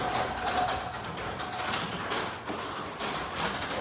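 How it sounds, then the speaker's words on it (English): A Genie model 2028 garage door opener runs steadily as it closes a garage door, giving a continuous mechanical hum and rattle with a few clicks and knocks, fairly quiet. "We're gonna click the second button to close the other door."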